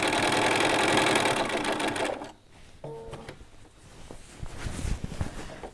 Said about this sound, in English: So let's go down, sew again, down to the corner.